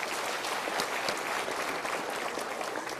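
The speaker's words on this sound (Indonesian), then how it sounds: "Kita berikan tepuk tangan." An audience at a motivational seminar gives a round of applause, a steady even roar of many hands clapping together, with no voices over it.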